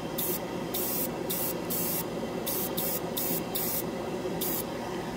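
ChromaAir paint sprayed from an airbrush onto a plastic scale model: a series of short, bright hissing bursts in an irregular rhythm, heard close over a constant low hum.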